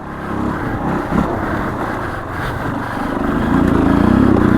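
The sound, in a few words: dirt bike engine doing a wheelie on trail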